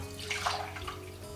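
Tap water runs steadily while something is rinsed beneath it, a soft, close splashing hiss with brief louder splashes.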